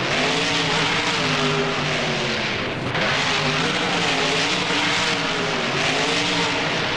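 Loud, continuous roaring engine of the Monster Mutt monster truck in a BeamNG game at Allegiant Stadium, with revving rises and dips and a brief drop near the middle.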